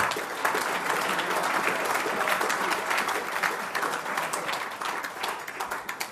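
Audience at an awards ceremony giving sustained applause, a dense, even crackle of many hands clapping, moderately loud and steady for several seconds, with a faint murmur of voices underneath.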